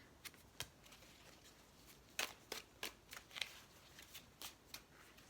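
Tarot cards are shuffled close by in a quiet room: a series of soft, crisp riffles and slaps comes in irregular bursts over several seconds, with no talk.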